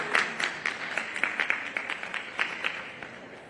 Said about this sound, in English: round of applause for Dr. Delisa Sanders